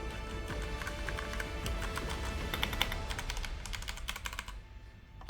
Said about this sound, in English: That is how the switches sound.